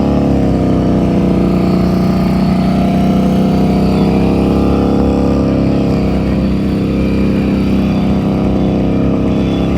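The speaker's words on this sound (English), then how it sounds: "Engine is nice and steady" A motorcycle engine idling along steadily during slow-speed riding practice, a loud, even, continuous drone heard up close with no voices over it.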